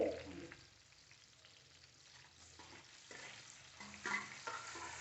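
Onions, green chillies, curry leaves and tomato pieces frying in a pan for Andhra-style crab curry, a soft, quiet sizzle with occasional stirring scrapes and small pops, no talking.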